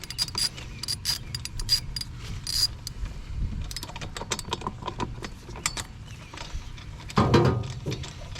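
A wrench clicks and ratchets as it takes a part off a Generac generator during maintenance, with a run of close, uneven metallic clicks and a heavier clunk near the end.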